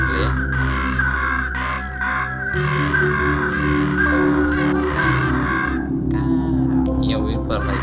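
Crows caw repeatedly in the video game Monument Valley, loud harsh calls layered over game music, with a voice talking intermittently.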